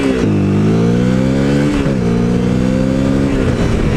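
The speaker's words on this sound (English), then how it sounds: "You just ring it through all the gears" A Honda CRF 250L motorcycle engine revving loud and close, the pitch climbing and dropping as it is run up through the gears with several shifts in quick succession.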